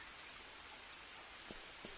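Steady rain falls as a dense, even hiss of drops throughout, with two brief soft taps standing out near the end.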